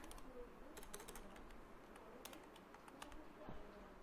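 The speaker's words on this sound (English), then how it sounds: "To copy the text, you have to press Control key and C" Typing on a computer keyboard gives faint, scattered key clicks over a quiet background hiss, with no voices.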